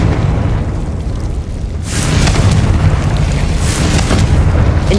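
Confringo spell blast in Hogwarts Legacy, a loud continuous fiery roar that swells into a bigger explosive burst partway through and stays dense to the end.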